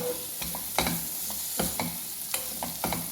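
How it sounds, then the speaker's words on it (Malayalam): Fried chicken is stirred into onion masala in a pan: a constant close sizzle broken by a rhythmic series of sharp spoon scrapes and clicks against the metal, with no talk. "ചിക്കൻ അതിലേക്ക് ഇട്ട് കൊടുക്കാം കേട്ടോ നന്നായി മിക്സ് ചെയ്ത് കൊടുക്കാം"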